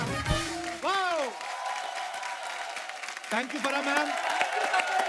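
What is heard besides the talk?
studio audience applause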